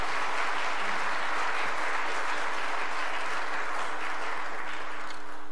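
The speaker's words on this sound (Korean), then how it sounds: "우리 박수로 한번 격려해" Congregation at a Korean church Sunday service breaks into steady applause, a dense, even clapping that fills the room without talk over it.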